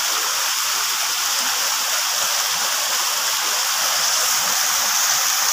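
A river rushes steadily at the Ci Koning waterfall near Bogor, making a loud, close, unbroken hiss of fast-flowing water with no voices.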